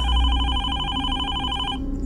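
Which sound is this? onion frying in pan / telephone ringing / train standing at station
telephone ringing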